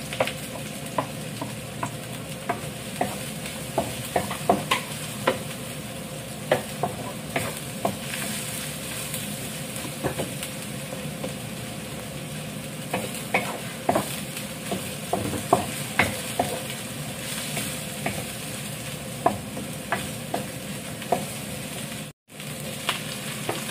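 Onion sizzles steadily in a frying pan for a vegetable dish, a continuous close hiss with scattered stirring clicks and scrapes, no voices.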